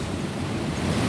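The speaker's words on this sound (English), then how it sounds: "It's fucking windy" Strong wind blowing outdoors buffets the microphone in a continuous, dense roar with low rumbling gusts and no pauses over about a second.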